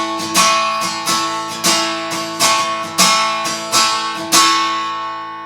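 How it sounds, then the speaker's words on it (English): Acoustic guitar strummed in a steady worship-style pattern, with regular accented strokes ringing out loud and close, with no voice over it. "Now this is kind of the foundational strumming pattern."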